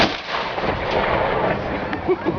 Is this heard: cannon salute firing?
yes